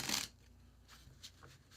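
Tarot cards shuffled by hand during a reading, a loud riffle burst at the start followed by soft, scattered card slides and taps over a quiet background.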